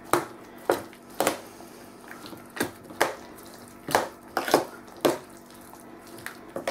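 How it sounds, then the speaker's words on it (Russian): A pie filling mixture being stirred thoroughly in a bowl, with repeated wet knocks and scrapes of the spoon at an uneven pace. "Это мы перемешиваем тщательно."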